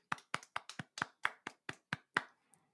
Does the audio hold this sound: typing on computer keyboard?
no